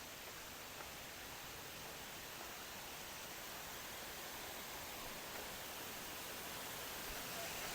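Rainwater pours down a hillside in Penang's botanical garden, making a steady, faint, broadband rush of flowing water that holds unchanged throughout, with no other sounds breaking through.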